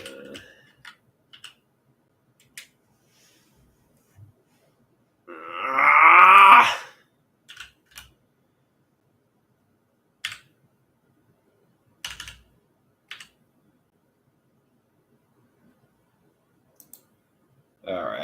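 Scattered single clicks of typing on a computer keyboard come sparse and close, separated by long quiet gaps. Midway a brief voiced hum or groan rises over them.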